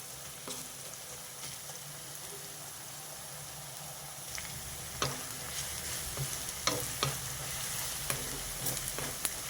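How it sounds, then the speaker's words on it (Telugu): Onions fry in a pan over a low flame while being stirred, giving a steady soft sizzle with scattered scraping clicks from the spoon that grow more frequent toward the end; no one speaks. "ఉల్లిపాయలు కలుపుతూ వేపుకోవాలి లేకపోతే ఒక పక్క వేగి ఒక పక్క వేగకుండా ఉంటాయి"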